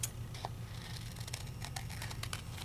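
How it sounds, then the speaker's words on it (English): Scissors snip around a paper butterfly sticker in a crafting session: a run of small, quiet cuts and paper crinkles heard close up over a steady low hum. "Cut your butterfly out."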